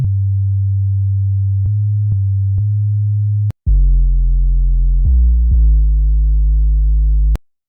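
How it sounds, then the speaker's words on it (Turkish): Long held bass notes from an FL Studio 3x OSC synth, smooth pure tones sustained for seconds, then shifting to a richer, buzzier timbre with a few note changes before cutting off abruptly. "Örneğin 3x OSC'deki bas sesi uzun tuşları olanlara iyi bir örnek."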